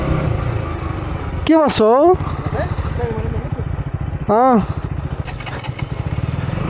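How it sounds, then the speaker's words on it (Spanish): A KTM Duke 200 motorcycle engine sputters and stalls after a pull-away in second gear: two short revving bursts with falling pitch and uneven chugging between them, close by, with a rider speaking briefly. "Ahí se me paró la moto."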